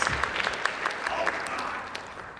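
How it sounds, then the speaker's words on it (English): A convention panel audience gives steady, close applause of many overlapping hand claps, filling the whole stretch evenly with a voice faintly underneath. "Let's give a round of applause for Final Draft"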